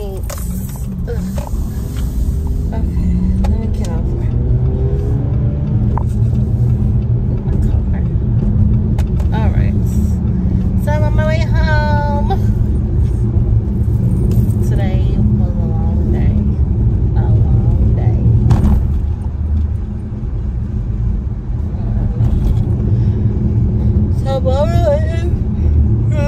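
Steady low rumble of a car's cabin while driving on a rainy street toward the freeway, constant road and engine noise throughout, with someone talking over it.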